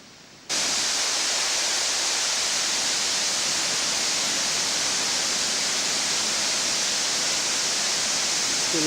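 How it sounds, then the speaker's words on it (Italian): A mountain waterfall roars steadily along a descending trail from a mountain hut, a dense, constant rush of falling water that starts abruptly and carries on loud and unbroken. "Bellissima cascata"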